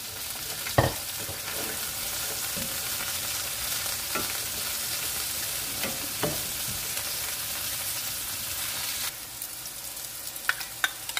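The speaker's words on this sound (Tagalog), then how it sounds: "Tapos, ilalagay natin yung ating beef." Beef frying in a pan on the stove, stirred steadily with a utensil, giving a continuous close sizzle broken by scraping strokes and a few sharper clacks.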